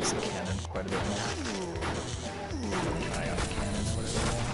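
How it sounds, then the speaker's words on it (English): Ion cannon firing in the PS4 shooter Crimsonland, loud continuous crashing energy blasts and impacts layered with dense game effects, sustained without break. "Ion cannon, whatever you want to call it."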